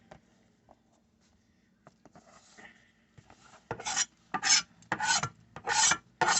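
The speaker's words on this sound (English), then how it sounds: "it's me pushing the seeds off my cutting board" A knife scrapes pepper seeds across a cutting board in a series of about five short, raspy strokes, close and fairly loud, after a quieter stretch of faint handling noise.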